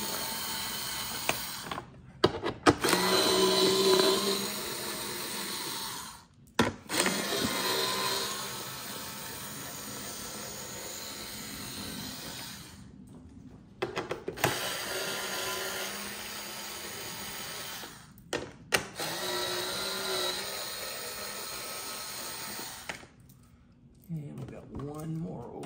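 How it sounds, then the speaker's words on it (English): Power driver backing 7 mm screws out of a Corvette C8 front grille, several short whirring bursts separated by pauses, close and moderately loud, with a person talking between and over the runs. "We're gonna take these screws out."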